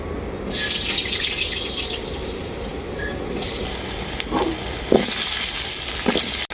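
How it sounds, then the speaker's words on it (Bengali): Potato pieces fry in the oil left over from frying snakehead fish, giving a loud, continuous crackling sizzle throughout, with a few brief sharper pops near the end. "মাছ ভাজা তেলের মধ্যেই আমি ভেজে নেব আলু"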